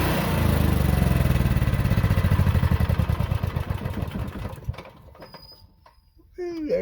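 A Cummins Onan QG 4000 RV generator runs with a loud, rapid mechanical chug, then winds down and fades to near silence after it is shut off. A voice speaks briefly near the end.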